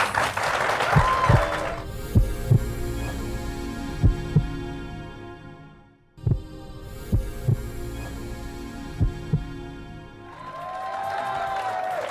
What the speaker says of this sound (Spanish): Gracias por esos aplausos de nuestro público.